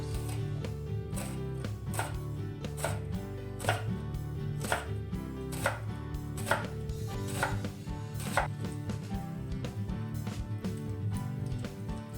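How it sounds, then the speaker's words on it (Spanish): A knife slices a vegetable into thin rounds on a board for a potato, apple and celery salad. The cuts land in a steady, crisp rhythm of close, distinct chops over background music. "Y la cortamos en rodajitas finas."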